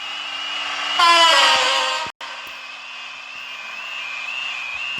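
A freight train at Cannon's Court in a train video game sounds a loud horn blast that cuts off sharply. A steady rolling rumble of the passing train follows.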